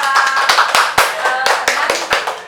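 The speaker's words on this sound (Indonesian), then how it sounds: "Tepuk tangan dulu buat teman" A group of children claps for a classmate in a school setting: a burst of sharp, fairly loud hand claps in an uneven rhythm, with voices faintly audible underneath.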